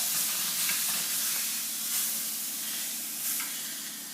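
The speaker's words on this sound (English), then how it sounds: "you can hear it sizzling" Food sizzles steadily in a hot frying pan, a continuous crackling hiss with small pops, close and fairly loud, with no voices.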